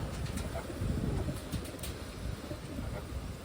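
Taiwan pigeons cooing in a loft, soft low throaty coos rising and falling over a busy murmur of birds, close and continuous, with no talk.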